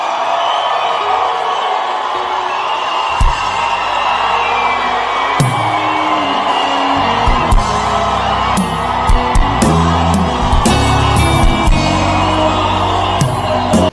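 Large crowd cheering, whooping and shouting in Teslim Balogun Stadium during a Dominion City night gathering, a loud continuous roar with scattered yells and bursts rising over it.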